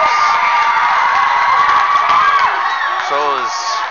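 A crowd at a varsity hockey game shouts and cheers loudly and continuously, with a few whoops rising above the din and a commentator talking over it.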